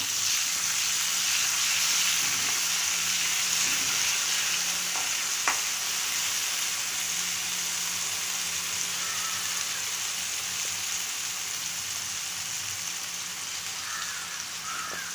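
Chili garlic paste frying in a pan while besan pithale curry is cooked, a loud continuous sizzle lasting about fifteen seconds, close up, with a few faint clinks of stirring.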